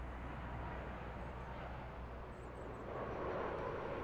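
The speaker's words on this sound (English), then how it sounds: "The plane touches down" Airplane touching down on landing, heard as a dense, even roar of engine and cabin noise that swells slightly toward the end, muffled and without speech.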